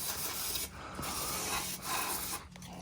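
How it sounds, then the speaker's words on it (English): Carb and throttle body cleaner sprays into the open throttle body of a Jeep Wrangler JK in a few short, quiet hissing bursts. "so we got some carb throttle body cleaner"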